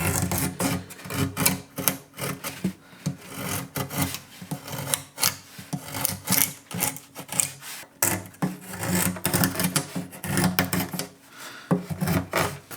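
Steady scraping and rasping of a chisel paring spruce or similar wood along the arm bevel of a handmade acoustic guitar, close and continuous with short repeated strokes, no talking.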